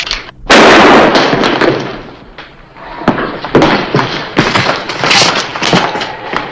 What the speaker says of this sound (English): There wasn't any reason for gunplay, Neil.